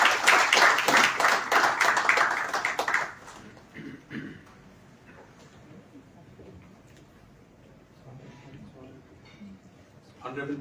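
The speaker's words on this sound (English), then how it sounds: "Give him a big round of applause," An audience at the curtain raiser of the First Cashew Fest in Goa bursts into loud, dense clapping for about three seconds, then the applause fades and scattered crowd noise and murmuring continue.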